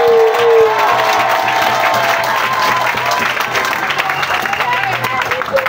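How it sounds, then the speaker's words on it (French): A crowd applauding and cheering at a referendum campaign rally, continuous loud clapping with shouts and voices throughout, close and dense. "Applaudissez pour vous."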